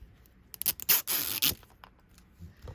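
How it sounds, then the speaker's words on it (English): A short zipper on toy packaging from an L.O.L. Surprise mini doll rasps open in a couple of quick bursts, close and crisp, then quiet. "Here's our zipper."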